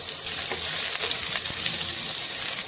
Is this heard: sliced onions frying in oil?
yes